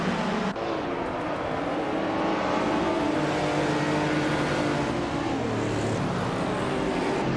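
Steady engine drone of a classic 1975 BMW CE racing in a video game, holding a continuous mid-level roar with slight pitch shifts and no pauses, heard alone without talk.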